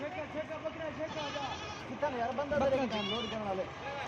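Goats bleat repeatedly in wavering calls, fairly close, while being loaded onto a cargo vehicle at a goat farm, with people talking throughout.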